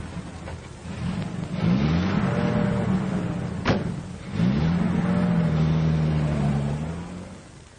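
A car's engine revs and pulls away nearby, a steady motor roar that swells twice over several seconds with a brief sharp click in the middle.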